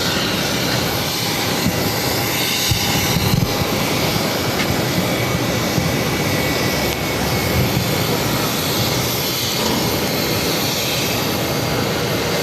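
A jet aircraft taking off from runway 22 right at Boston Logan produces a loud, steady, broadband engine roar with a faint whine, continuous for the whole stretch.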